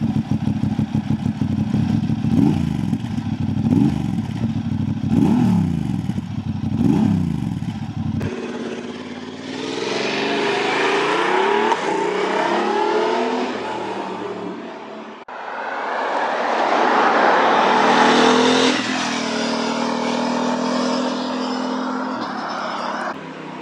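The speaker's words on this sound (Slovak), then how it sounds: "Ten v prípade mojej testovačky posilnil tlmič výfuku, ktorý vznikol v spolupráci Hondy a SC Project a znie takto." A Honda CB750 Hornet engine fitted with a Honda and SC Project exhaust silencer revs hard and loud, first in rising and falling blips, then in longer sweeping runs up through the gears.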